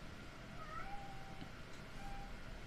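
A cat meows faintly a couple of times over a steady background hum, short and somewhat distant.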